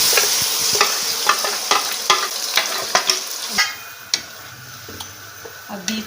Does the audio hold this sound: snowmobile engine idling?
no